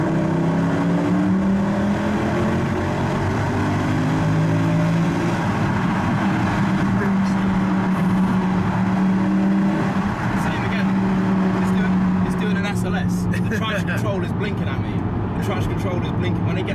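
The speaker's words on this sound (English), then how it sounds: "it's got this massive engine, which we're about to hear now" A Mercedes C63 AMG engine drones loudly and steadily in a tunnel, its pitch rising and falling as it revs, with echoing reverberation; voices occasionally talk over it.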